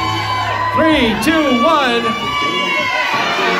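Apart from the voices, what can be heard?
wedding guests cheering at garter toss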